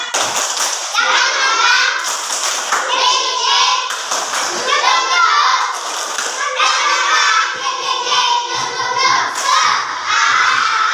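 Primary-school children in a combined-grade classroom perform a rhythmic clapping chant, sharp bursts of claps alternating with loud sung and shouted syllables in a lively repeating pattern, close and energetic.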